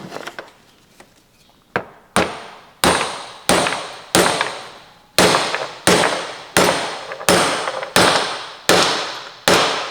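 Repeated sharp hammer taps driving an oil seal into an outboard motor lower unit, about a dozen loud close strikes at a steady rhythm after a quiet start, with no talk.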